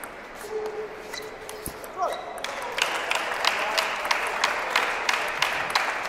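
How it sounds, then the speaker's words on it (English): Table tennis team at a championship quarterfinal standing and clapping, a steady patter of applause building from about two seconds on, with ball pings and crowd noise around it under commentary. "they all stood up and started clapping for that one"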